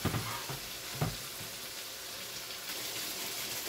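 Chicken karahi sizzles and fries in a karahi over a stove flame, a steady close crackling hiss with a few louder stirring clatters near the start.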